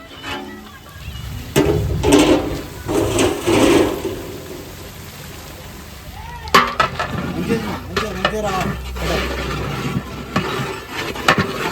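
Food being stirred in a cooking pot during home cooking for a family function, with scraping, clinking strokes and some sizzling at close range, interrupted by people talking in Telugu.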